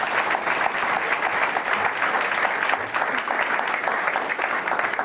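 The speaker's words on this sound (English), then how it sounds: "Can I get an applause for Danny, Kobe and Erwin?" Audience applause for three team riders at the Team SD Worx - Protime 2024 team presentation, a dense, steady clapping from a large crowd that holds at full strength for about five seconds with no break.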